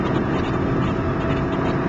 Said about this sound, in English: Now let us hear the engine hum around this beautiful course.